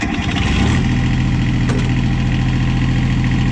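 A Cub Cadet 1772 lawn tractor engine runs with the throttle pulled up a little, a loud, close, steady mid-pitched drone with an even pulsing beat and no voices.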